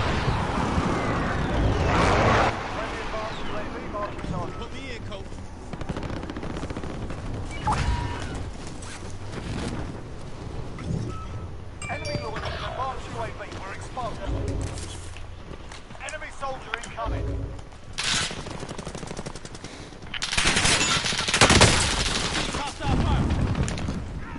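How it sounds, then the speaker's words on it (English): Machine gun fire and explosions in Call of Duty Warzone, bursts of shots and booms scattered among footsteps and game noise, heaviest near the end, with people talking throughout. "Receiving hostile fire."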